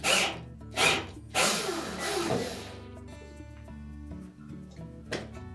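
A power driver whirs in several short bursts while slowly removing a screw from the suspension spring retainer of a Whirlpool washer, with a longer run and a ringing metallic tail afterward.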